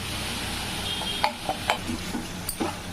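Chicken sautéing in a pan for Chettinad gravy gives a steady, close sizzle, broken by a few sharp clinks and scrapes of a utensil stirring against the metal.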